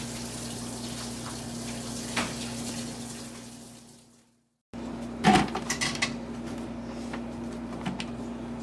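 Running tap water pours steadily while hands are washed at a kitchen sink during pasta making, with a brief silent gap midway and a few soft knocks and splashes after it.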